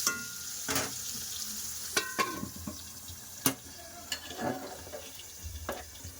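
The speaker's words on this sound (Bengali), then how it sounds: "বন্ধুরা কুমড়া ভাজা হয়ে গেছে" Thick pumpkin slices fry in a pan with a faint, low sizzle. Sharp spatula clicks and scrapes come at irregular intervals as the pieces are stirred.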